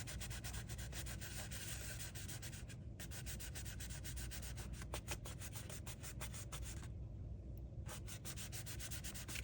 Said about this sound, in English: glue, glue, and then just rub those sides.